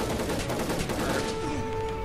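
Rapid machine gun fire in the Army Men game, dense rattling bursts filling the whole moment, loud and close over a steady battle din with a faint tonal hum.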